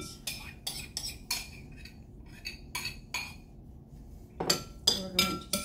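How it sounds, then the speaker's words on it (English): A spoon stirs a garbanzo and turkey salad mixture in a bowl, giving a run of light irregular clinks and scrapes, then a denser burst of clatter near the end. "we're going to stir it around. Make sure it's all coated."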